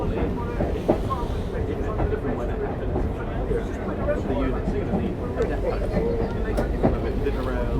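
A diesel train runs at the Great Central Railway during a winter gala, making a steady rolling rumble with faint rail clicks while people talk nearby over it.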